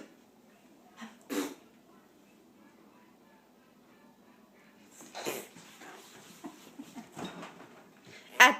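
A woman sneezes a few times at breakfast, short sharp bursts spaced apart with quiet gaps, close to the mic; someone talks softly between them.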